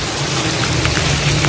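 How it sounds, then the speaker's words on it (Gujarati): Heavy rain pours down outdoors in a steady, loud, unbroken hiss with no pauses or other sounds standing out. "વરસાદ આવે છે"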